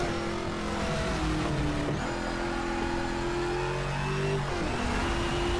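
A race car engine revving and accelerating in the racing video game Shift 2 Unleashed, loud and continuous, with the pitch climbing through gear changes over several seconds.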